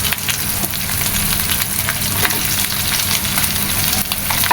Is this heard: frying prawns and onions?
yes